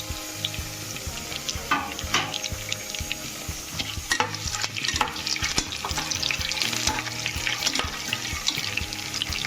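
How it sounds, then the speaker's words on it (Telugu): Whole spices such as black pepper, shahi jeera and bay leaf frying in hot oil for haleem, a continuous crackling sizzle with sharp pops and clinks of stirring, close and fairly loud, no talking. "ఇక్కడ మిరియాలు, సాజీరా, ఇవి నూనెలో యాడ్ చేసుకుంటున్నాను"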